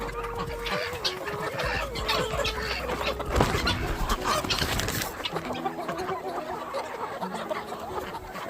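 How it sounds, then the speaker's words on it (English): Farm chickens and roosters cluck steadily on a homestead, a dense close flock with overlapping calls throughout, and someone briefly speaks over them. "there's a chicken right there, Smush."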